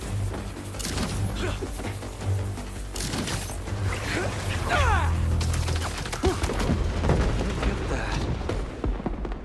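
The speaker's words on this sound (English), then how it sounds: "Wait, those fireworks are lit?" Fireworks going off in a Spider-Man video game, a busy run of overlapping booms and crackling bursts with a low music bed underneath, fairly loud and continuous.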